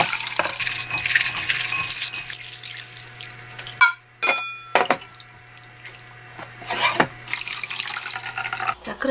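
Water poured over soaked soybeans in a bowl while hands rub them to loosen the skins, giving a steady splashing and sloshing with brief pauses and wet handling noises, close by and without talk.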